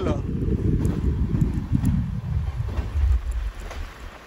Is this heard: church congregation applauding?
no